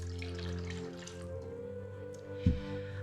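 A remedy solution is poured into a basin of warm bath water for soaking hands, giving a soft, faint trickle and drip with one brief splash near the end.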